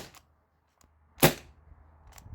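A T4E TR68 CO2 marker is fired empty into grass, giving a single sharp, crisp pop followed by faint rustling.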